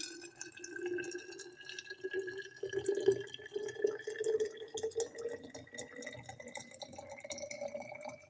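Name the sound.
boiling water poured into a jar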